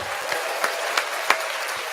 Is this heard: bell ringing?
no